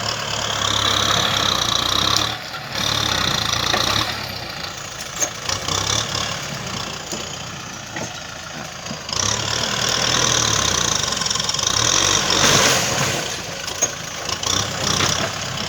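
A Kubota M6 tractor engine runs steadily and loudly up close while digging out eucalyptus roots to widen a corn field, its droning rumble dipping and surging under load with clanking mixed in.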